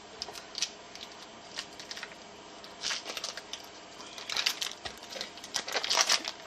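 Plastic food packaging being cut open by hand in a home kitchen, soft crinkling and snipping rustles that come in irregular clusters and grow busier toward the end, fairly quiet and close.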